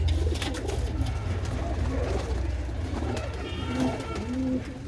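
Several Cheena pigeons with black eyes, kept indoors in a loft among racing birds, coo steadily and close, their rolling calls layered over a continuous low hum.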